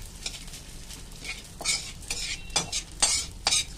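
Edible gum (gond) frying in oil in a kadai, stirred with a handful of scraping, clinking strokes over a faint sizzle, close and moderately loud without speech.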